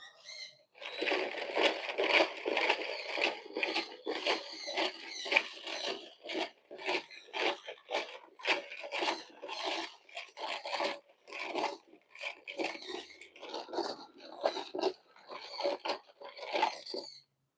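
Paper tokens are mixed by hand in a rapid series of close, dry rustling and shuffling bursts, with irregular short scrapes and crinkles repeating throughout.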